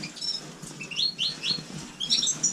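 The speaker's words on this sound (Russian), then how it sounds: "Здесь парочка наших местных щеглов." Several goldfinches chirp in quick, high-pitched bursts nearby, with soft rustling and fluttering between the calls.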